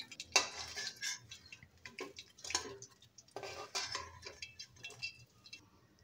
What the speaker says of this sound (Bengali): এখন মাছটাকে উঠিয়ে নিচ্ছি।